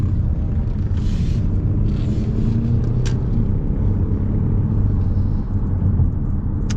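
Cabin of a 2026 Ford Escape ST-Line accelerating on a rainy road: a steady, loud low engine and road rumble fills the interior throughout, with faint hiss from the wet surface and no talking.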